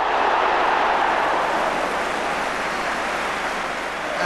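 A large football crowd at Manchester City v Charlton Athletic in 1985 applauds after a goal, a loud, continuous roar of distant clapping that holds steady with no commentary over it.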